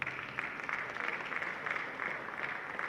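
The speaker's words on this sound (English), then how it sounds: "Okay, let's clap for the US." Audience applauding at an international buyers week event in a convention center, a sustained patter of many hands with faint pulsing swells, fairly distant and even throughout.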